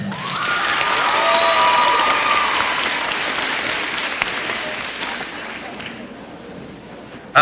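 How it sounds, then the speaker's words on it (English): An audience applauds and cheers for a placing small cheer team at a morning awards ceremony, a dense burst of clapping and shouts that peaks early and then fades gradually. An announcer's voice is faintly audible beneath it. "In 7th place, make some noise for Catlin."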